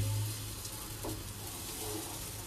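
Hot oil with water in it spattering and sizzling in a pan, a faint continuous crackling hiss with occasional small pops, no talking.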